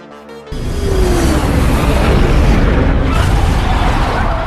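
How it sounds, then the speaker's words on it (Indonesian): A sudden deep blast erupts at the front of an airplane after a brief quiet moment, then a loud, sustained roaring rumble with crackling debris that fills the rest of the clip. "akan terjadi ledakan di bagian muka pesawat"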